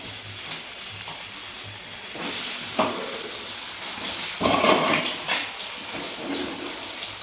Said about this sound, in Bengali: প্রথমে টোফুগুলোকে হালকাভাবে তেলে ভেজে নেওয়া হবে।